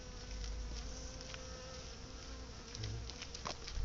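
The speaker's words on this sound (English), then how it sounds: "Oh, there's a bumblebee." A bumblebee buzzes around wild flowers outdoors, a steady close hum that swells and fades as it moves, with no talking.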